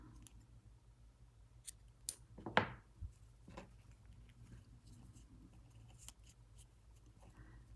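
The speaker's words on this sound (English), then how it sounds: "Chain 1 and cut the thread off." Scissors snip through crochet thread once, a single quiet, crisp cut close by against a faint background hush, with no voices.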